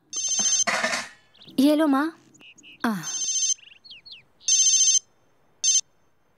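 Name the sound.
mobile phone ringtone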